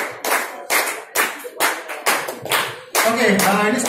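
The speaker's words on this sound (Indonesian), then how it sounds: "Tepuk tangannya sekali lagi untuk Ibu Dian Pantai Kajian" An audience at a birthday celebration claps in several short, loud rhythmic bursts with brief gaps, then a person starts talking over the last of it.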